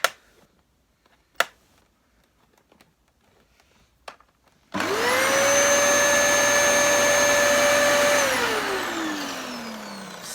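A few sharp clicks and taps come first, then a 1400-watt Dyson vacuum cleaner switches on with a sudden loud roar and a rising whine that holds steady before slowly winding down near the end.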